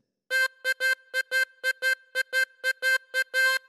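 A harmonica phrase from a theme played as a quick run of about fifteen short, evenly spaced staccato notes in a bouncing rhythm, heard solo and close.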